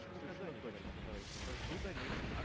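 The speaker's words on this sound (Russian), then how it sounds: "Просто катайся, Саня, артой фигач, да." Continuous rumbling artillery fire from a video game, heavy booms layered over each other, with people talking over the barrage.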